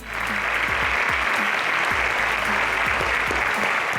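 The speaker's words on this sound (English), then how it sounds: "A round of applause for Queen's School." A school audience gives Queen's School sustained applause at a high school quiz game, many hands clapping at an even level from start to finish.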